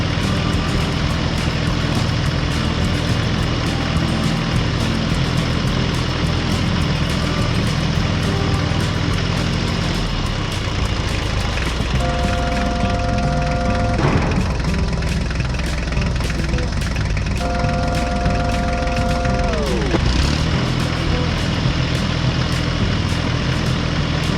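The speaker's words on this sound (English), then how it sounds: "When the job was done, the tractor slowly drove over the newly paved road," Tractor engine on a newly paved farm road, a loud steady idling drone that runs throughout, with shifts in engine note and brief high tonal whines around the middle.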